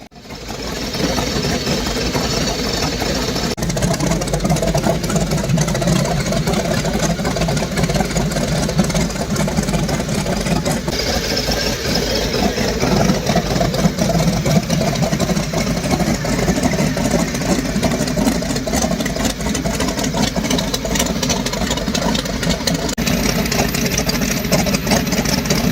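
An old aircraft engine turns over and catches, then runs loudly and steadily for about 25 seconds as a continuous rumbling roar, with no voices.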